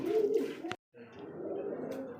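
Domestic pigeons coo at a wholesale pigeon market: a low, steady murmur of close, overlapping coos that breaks off for a brief silent moment and then resumes just as dense.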